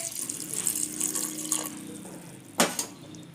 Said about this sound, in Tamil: இப்போ பருப்பு வேக வைக்கிறதுக்கு தேவையான அளவுக்கு தண்ணி ஊற்றிக்கலாம்.